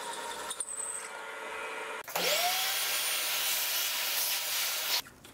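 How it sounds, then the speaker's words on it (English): A drill boring a hole in stainless steel with cutting oil, a steady whirring grind that spins up with a rising whine, then cuts off abruptly after a few seconds. "I'll drill a small pilot hole, and then I'll follow it up with a much bigger one."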